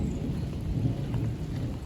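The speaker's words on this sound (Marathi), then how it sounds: "एकदम पावसाळ्यासारखं ढगांचं गडगडाट पण चालू आहे" Low, rolling thunder rumbles continuously beneath a steady hiss of early rain in Konkan, India, heavy and unbroken for the whole short stretch.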